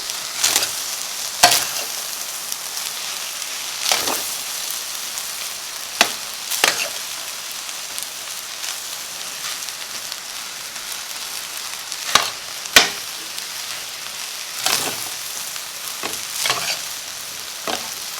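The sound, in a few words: rice stir-frying in a pot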